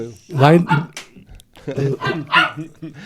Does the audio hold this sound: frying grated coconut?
no